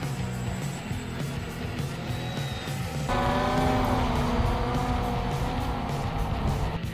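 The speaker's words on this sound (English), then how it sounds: "And the aircraft rapidly increases its speed." A Krossblade SkyProwler 2 drone aircraft flies with a steady motor drone that rises abruptly in level and pitch as it accelerates, continuous and fairly close, with no talking.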